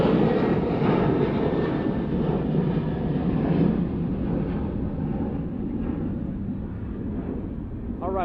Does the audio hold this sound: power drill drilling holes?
no